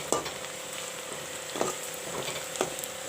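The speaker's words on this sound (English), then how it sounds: "The onions are almost fried up." Onions fry in a pan with a constant crackling sizzle. Three spaced scrapes of stirring come through clearly over it.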